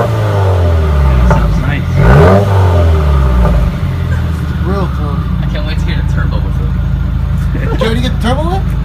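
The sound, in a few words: 2015 Subaru WRX engine revving with axleback muffler delete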